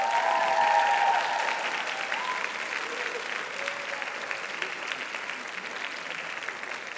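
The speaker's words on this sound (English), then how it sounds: "I invite the graduates to applaud their professors for all the help that they have given to you" University graduates at a commencement ceremony applaud their professors, a broad, sustained crowd applause that starts strongest and eases slightly while holding steady across a large hall.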